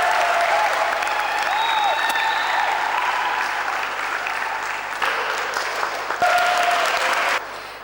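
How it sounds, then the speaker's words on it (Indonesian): A live audience claps steadily for a singer, a dense, loud wash of applause that holds throughout with a brief surge near the end. "Beli tepuk tangannya."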